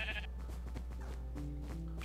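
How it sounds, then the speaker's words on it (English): Sheep bleating in the Minecraft video game, a few wavering bleats in quick succession, clear and fairly quiet with little else around them. "A lot of sheep."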